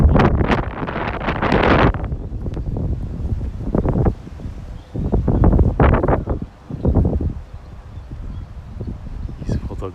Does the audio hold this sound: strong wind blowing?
yes